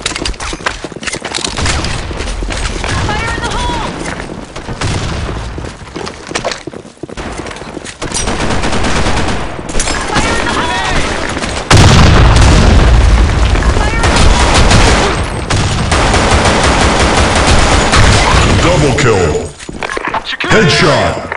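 Video game combat with a grenade explosion and bursts of gunfire, loud and dense, with a heavy low boom around the middle and continuous shooting over about twenty seconds, mixed with voices calling out.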